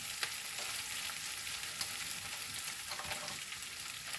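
Vinegar splashed into cut fresh green chillies in a hot pan for a mixed chilli pickle, the gas already switched off, giving a steady close sizzle with faint crackles and a few soft stirring clicks, no talk.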